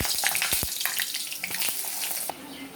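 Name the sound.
eggplant frying in oil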